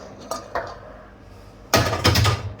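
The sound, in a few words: mixing salad ingredients in a bowl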